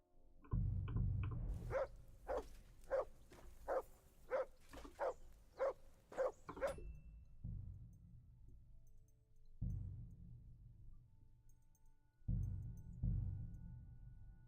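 A dog barks in Kingdom Come Deliverance 2, a quick run of about a dozen sharp, fairly close barks, then quieter growls and whimpers with short pauses between them.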